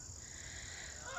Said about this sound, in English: The geese are already starting to fly south.